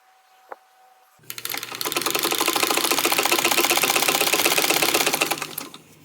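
A sewing machine chain-pieces quilt blocks, its needle running in a fast, even mechanical rattle for several seconds close by, starting after a brief click and easing off at the end.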